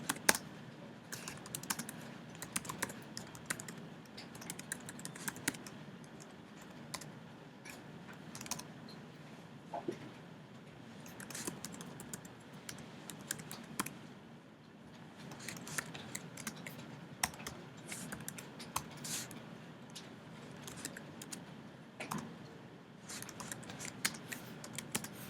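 Rapid clicking of keys on a computer keyboard while writing Android code, quiet and close, with irregular bursts and brief pauses throughout.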